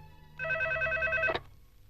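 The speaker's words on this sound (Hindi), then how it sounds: "रिंग हो रही है।" A telephone rings on the line during a call: one steady electronic ring tone lasting about a second, clear and fairly close, with a short click as it cuts off and no one talking.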